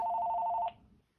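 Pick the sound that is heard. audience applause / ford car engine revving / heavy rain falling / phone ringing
phone ringing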